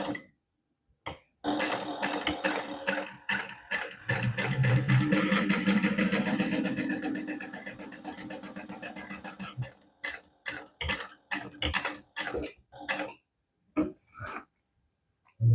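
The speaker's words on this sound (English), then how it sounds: "we're going to top stitch along the top edge of each of these" A sewing machine topstitches along the top edge of fabric wallet pieces at a 1/8 inch seam allowance: scattered mechanical clicks, then a sustained close whirring run for several seconds, then more clicks and taps, with no talking.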